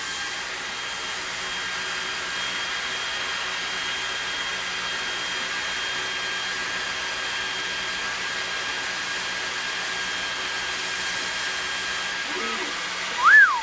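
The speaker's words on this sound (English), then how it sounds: "Now let's say I want to mark this stainless steel multi-tool. All I have to do is align my laser and click play." A laser engraver marks a stainless steel multi-tool, its fan-like whirring hum with a faint high tone running steadily and alone, ending in a brief rising beep near the finish.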